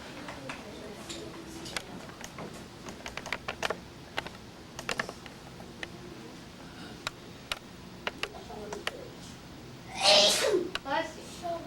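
A child's sneeze bursts out near the end of a classroom scene, brief and fairly loud against soft background talk and scattered small clicks.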